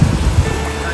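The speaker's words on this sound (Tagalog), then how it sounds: "Medyo strong na yung current and nagsasalubong na yung alon." Ocean waves meeting at the tip of a sandbar on Kalanggaman Island, Leyte, with a strong current: a steady low rumble of surf and wind noise, loud and close, with no talk.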